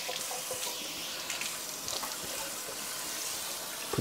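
Tap water runs steadily into a kitchen sink while a cast iron pan is washed, a continuous hissing splash close by with small clatters of the pan against the basin.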